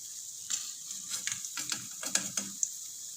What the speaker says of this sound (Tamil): ரெண்டு பக்கமும் நல்லா கோல்டன் ப்ரௌன் கலரில் ஃப்ரை ஆகிடுச்சு